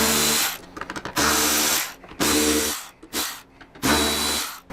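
A power driver with a Torx 25 bit backs out the bolts of a Harley-Davidson Street Glide outer fairing. It gives four loud, close whirring bursts, each lasting about a second, separated by brief stutters and pauses.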